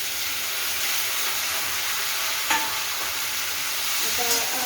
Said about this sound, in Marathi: हे छान असं एक मिनिटभर चांगलं परतून घ्यायचं